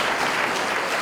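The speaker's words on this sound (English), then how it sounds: "Let's have a round of applause for them." Audience applause at a youth convention on electoral politics at a university, dense steady clapping from a crowd filling a brief moment.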